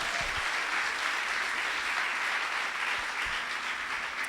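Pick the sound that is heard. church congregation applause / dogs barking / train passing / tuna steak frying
church congregation applause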